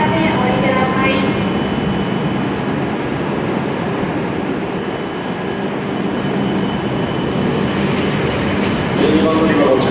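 Hokuriku Shinkansen E7 series train standing at a Kanazawa Station platform: a steady, loud rumble and hum of the train and station, with platform announcements spoken over it throughout.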